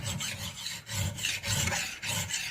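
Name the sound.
metal file sharpening an axe edge, sliding back and forth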